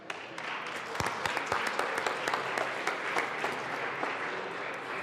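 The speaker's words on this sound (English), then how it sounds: "Let's give them a round of applause" Applause in the Colorado House of Representatives legislative chamber, a dense, sustained round of clapping from many members that holds steady and loud for several seconds.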